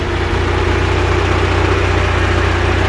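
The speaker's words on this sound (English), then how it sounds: "So now we have the engine test cell running at a fast RPM, fast tick over" A VW engine fitted with a 1980 Solex PICT 34 carburettor runs on a test cell at a fast idle, giving a steady, continuous mechanical hum with no change in speed and no voices.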